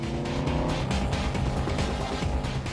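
A Mercedes SLS AMG safety car driving on a racetrack, its engine a steady, loud roar with no break, with faint tire noise and no voices.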